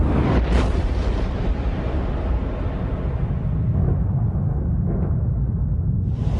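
A deep, sustained explosion effect evoking massive solar eruptions, with a broad rumbling roar that swells early and holds steady, then fades in its upper brightness toward the end, with no voices.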